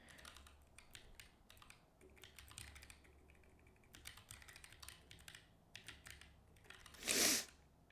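Computer keyboard typing while writing code, steady irregular clusters of close keystrokes with short pauses, and a brief sharp louder burst near the end.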